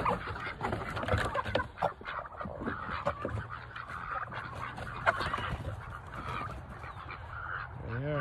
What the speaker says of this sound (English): Look over here and see what the chickens and turkeys and ducks are up to.